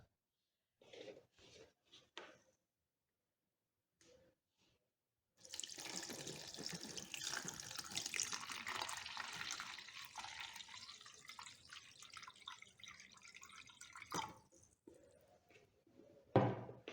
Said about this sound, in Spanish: voy a ir en un momento ahora por agua, por un recipiente con agua. Lo llenaremos